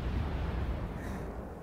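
Battleship Musashi's main guns fire in World of Warships, a dense rolling roar of heavy blasts that stays loud and steady throughout before easing slightly toward the end.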